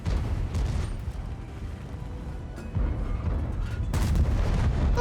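Tank gun fire in World of Tanks from a Pz. VII, distant booming shots and rumbling impacts over a low battle backdrop, moderate and somewhat muffled, with a couple of heavier thuds near the end.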